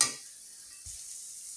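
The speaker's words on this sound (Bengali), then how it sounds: "না দিয়ে এগুলো আমি সুন্দর করে ভোনা ভোনা করে নেব।" Spice paste for raw mango pickle, made without onion or turmeric, frying in a pan with a quiet, steady sizzling hiss and a soft stir-scrape near the start and again around the middle.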